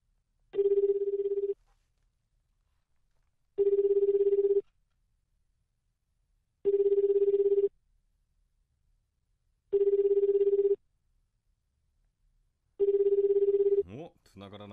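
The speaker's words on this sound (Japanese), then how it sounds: "まだ電話つながらないですね" Five evenly spaced telephone ring tones sound on an outgoing call that goes unanswered, each burst about a second long with a gap of roughly two seconds, clear and close, followed by a person starting to talk.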